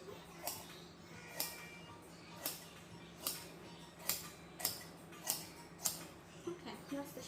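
Scissors snip through fabric while cutting the shoulder of a bubu batwing gown, about a dozen crisp, evenly spaced cuts close by over a quiet room hum.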